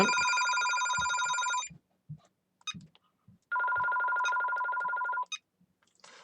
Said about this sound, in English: Sorry, I need to stop this phone from ringing, because I don't want it interrupting the lecture.